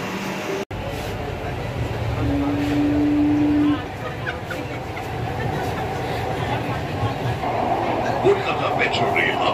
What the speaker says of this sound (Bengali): হাওড়া ময়দান থেকে মেট্রোটা আসবে, দেখাচ্ছে 2 মিনিটের মধ্যে আসবে।